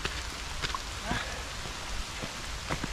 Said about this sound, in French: il pleut à mort.